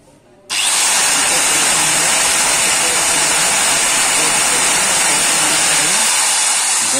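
A Cameron Pro CP-AG4 950 W angle grinder clicks on after a brief quiet start, then runs steadily with a loud, high, even whine close by for several seconds.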